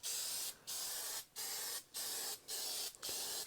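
An aerosol spray can with a faulty spray tip sprays in five short bursts, each a loud hissing spurt of about half a second separated by brief pauses, close up and with no talking.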